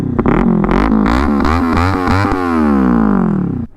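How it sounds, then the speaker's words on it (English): A Kawasaki Ninja 400 with a Leovince LV10 aftermarket exhaust is revved close by: a few quick throttle blips rise and fall, then a longer swell climbs and drops back toward idle, loud and raspy. "Let me give it a couple revs."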